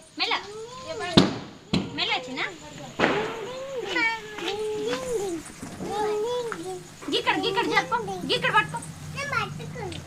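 Firecrackers burst during Diwali celebrations in Manthani, with several sharp cracks spread through the scene, mixed with excited children's chatter and shouting close by.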